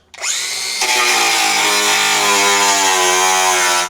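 A power tool cuts through metal on a C5 Corvette drift car, throwing sparks: a loud, steady high-pitched whine that spins up and holds continuously at close range, with no talking.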